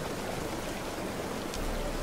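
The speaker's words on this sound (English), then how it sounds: "Small waterfall." A small waterfall in The Witcher 3 sends out a steady, soft rush of splashing water, continuous and even with no voices over it.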